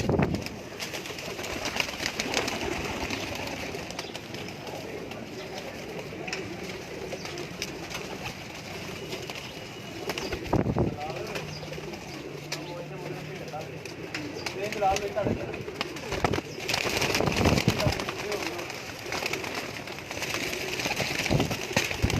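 Many pigeons coo together in a crowded breeding loft, giving low, repeated, overlapping calls close by, with human voices talking over them.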